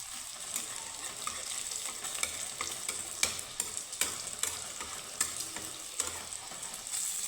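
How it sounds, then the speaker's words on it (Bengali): Flour dough balls fry in hot oil until reddish golden, a steady bright sizzle broken by frequent small crackles and soft pops, close and continuous with no talk. "তো লাল লাল করে সুন্দর করে ভেজে নিব"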